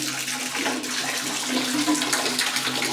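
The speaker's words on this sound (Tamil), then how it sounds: "தண்ணி மெயின்டைன் ஆகிடுது அப்படியே வந்துட்டு இருக்கும், வந்துகிட்டே இருக்குங்க" Hot water pours steadily from the tap of a Vikram Mr.shot 2.O instant running water heater, a loud continuous rushing splash with no pauses.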